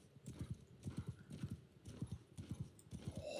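A horse in the Bannerlord video game gallops in a steady, rapid hoofbeat rhythm, moderately loud and continuous over rushing wind and battle noise, with a brief rise at the end.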